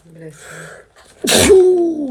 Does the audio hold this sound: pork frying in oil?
no